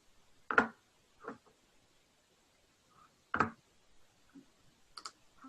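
Computer mouse clicks during an online training session: a few sharp, isolated clicks spaced irregularly in a quiet room, near and faint.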